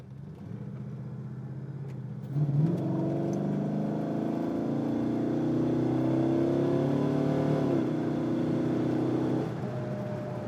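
A 1967 Dodge Coronet with a 426 Hemi engine accelerates hard, its engine note rising steadily with a clear gear shift near the end, loud and close, with no talk.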